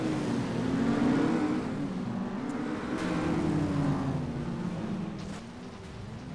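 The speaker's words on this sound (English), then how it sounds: "All the cars just going over the fucking hump" Cars in the FlatOut racing game on the Whitefish Ice Run track, driving over a hump: a steady mid-pitched engine drone that rises and falls slightly, with no talk.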